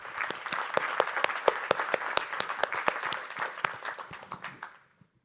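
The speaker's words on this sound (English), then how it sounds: "So round of applause for them," Audience applause for panel members at the Andes RISC-V CON 2023 conference in Silicon Valley, a moderate round of clapping from a crowd, dense at first and fading out over a few seconds.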